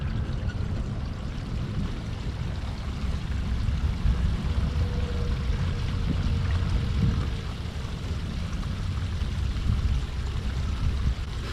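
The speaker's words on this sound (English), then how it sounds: "flushing it out a lot better than what you would get just from using your tank flush" Water rushes steadily through an RV black tank as it is flushed out, a constant, dense, low-heavy gush that goes on without a break and with no talking.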